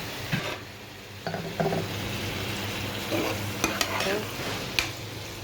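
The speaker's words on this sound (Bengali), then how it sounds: "ডাটার জন্য সমস্ত মশলা দিয়ে কষাই নিলাম" Fish and vegetable stalks sautéed with spices in a pan: a steady close frying sizzle with intermittent stirring scrapes and a few sharp utensil knocks, no voices.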